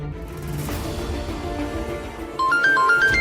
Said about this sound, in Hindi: जल्दी उषा मौसी को कॉल करो और हाँ। फोन स्पीकर पे रखना।